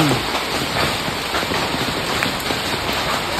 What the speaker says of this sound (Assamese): গোটেই শিল বৰষুণ